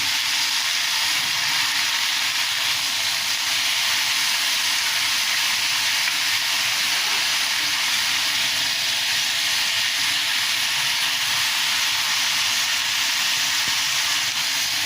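Bottle gourd shoots curry sizzles in a pan as it is sautéed, a steady, dense hiss of frying that holds evenly and loud throughout without pause.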